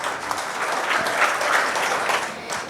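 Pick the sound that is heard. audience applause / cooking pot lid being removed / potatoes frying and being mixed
audience applause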